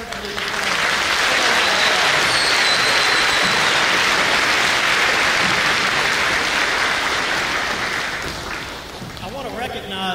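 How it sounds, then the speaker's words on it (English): Loud, sustained applause from a large school audience at a Veterans Day assembly for a master sergeant, dense and continuous for several seconds before fading, with voices rising underneath at the end. "Let's give Master Sergeant Lucas a round of applause."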